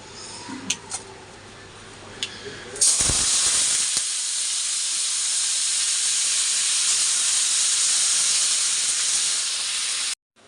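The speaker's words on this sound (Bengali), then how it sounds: "তেলও বসিয়ে দিয়েছি এখন একটু সবজিগুলো ভেজে নিয়ে" Vegetables hit hot oil in a pan for dal. After a few quiet clicks, a loud, bright sizzle bursts in and holds steady for about seven seconds before cutting off abruptly.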